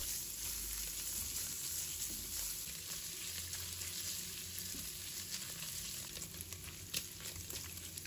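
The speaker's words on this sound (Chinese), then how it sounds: "接着把五花肉放入锅中" Pork belly stir-fried in a wok after pan-fried tofu, rendering its fat with a steady, crackling sizzle and faint scraping stirs, continuous and close with no talking.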